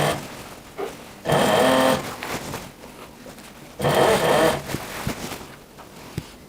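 Sewing machine stitching down a woman's classic shirt collar, two loud sustained whirring runs of a few seconds each, close, separated by quieter handling sounds.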